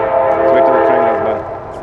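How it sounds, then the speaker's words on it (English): A diesel train passes close by outdoors, its loud, sustained horn-like roar filling the whole moment and fading slightly toward the end. "Let's wait till the train goes"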